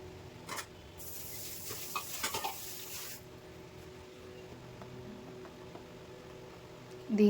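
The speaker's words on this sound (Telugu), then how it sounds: "ఇప్పుడు నేను ఇక్కడ వడలు వేసేస్తున్నాను." Vadas go into hot oil with a burst of hissing sizzle that lasts about two seconds and then dies back to low kitchen background, with a few soft clinks.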